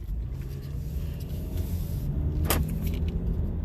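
A Jeep rolls along on a morning drive, its engine and road noise forming a steady low rumble throughout, with a brief rattle or clunk inside the cabin midway.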